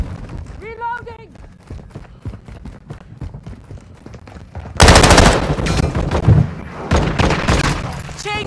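Modern Warfare gunfight: bursts of automatic fire crack loudly, with heavier sustained volleys in the second half, mixed with reloading clatter and shouted voices over the game audio.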